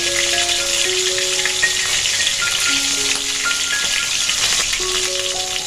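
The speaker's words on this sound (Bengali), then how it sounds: "লাল লাল করে ভেজে নেব" Loud, continuous crackling of food frying in hot oil, dense and close, with faint steady tones running underneath.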